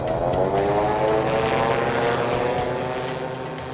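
A gyroplane with a free-spinning rotor powers up on a runway for takeoff, its propeller engine roaring loudly and steadily with a slowly shifting pitch, close by and alone.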